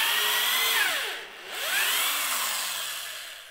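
A power drill with a 6.5 mm bit bores a hole while preparing a garden bed, its close, steady high whine sagging in pitch as the motor loads up mid-cut, then spinning back up, with no voices.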